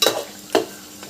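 Chicken pieces frying in oil are stirred in a pan, giving two short, close scraping strokes over a faint sizzle, with a quieter third near the end.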